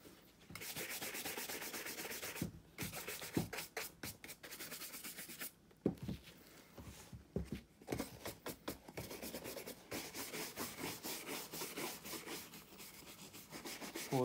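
Leather shoes brushed and rubbed during pre-wear care, with repeated brisk scrubbing strokes in uneven bursts and short pauses, fairly faint and close up with no talking.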